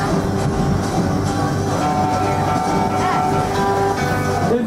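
Kings Island Miami Valley Railroad train rolling steadily on its ride from the Rivertown station, with a continuous loud rumble and rhythmic wheel clatter throughout.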